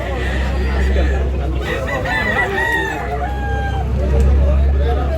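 At a crowded chicken market in Tabunok, Talisay, Cebu, multiple roosters crow one after another, fairly close, mixed with clucking and a steady hum of people talking.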